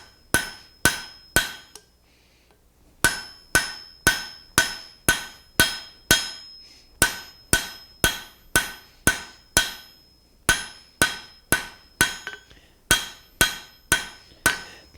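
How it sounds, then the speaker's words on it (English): Steel taper being forged on an anvil by a blacksmith, heard as sharp, ringing hammer blows in rapid series of about five or six strikes, separated by brief pauses, loud and close with no talking. "With just 2 or 3 series of hammer blows, all within the same heat, we have more than doubled the length of that taper."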